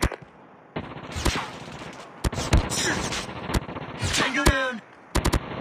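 Automatic sentry gun firing in the mobile shooter game Call of Duty Mobile, sharp bursts and single cracks of gunfire spread across the span with a short radio voice line over the shots.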